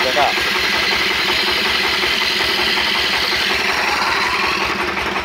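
A stationary diesel engine idles steadily while powering a homemade dowel machine for making broom handles, giving a continuous, even, loud chugging throughout.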